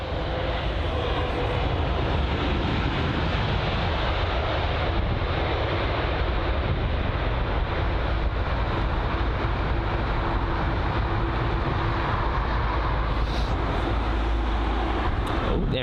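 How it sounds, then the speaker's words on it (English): Etihad Airbus A350-900 arriving at London Heathrow, with a sustained heavy jet roar and deep rumble carrying through the whole passage, loud and steady, with wind buffeting the microphone. "There is the Etihad A350 that just passed there."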